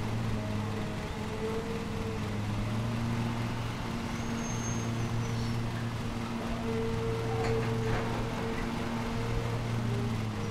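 In Lawn Mowing Simulator, a mower engine hums steadily and fairly loud, its low drone dipping and rising a little in pitch as speed changes, with no voices over it.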